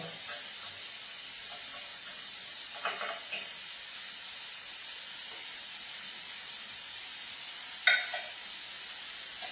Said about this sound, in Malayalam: ഇനി നമുക്ക് ഒന്ന് വഴറ്റി കൊടുക്കാം.